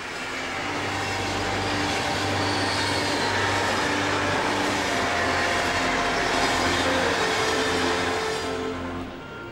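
A German diesel locomotive train rumbles steadily past nearby, a loud continuous roar with droning engine tones and rail noise, fading slightly at the very end.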